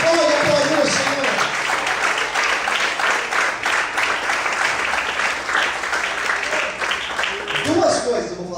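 A church congregation applauds during an evening service, a steady, dense wash of clapping that runs nearly the whole time and fades near the end, with some voices mixed in.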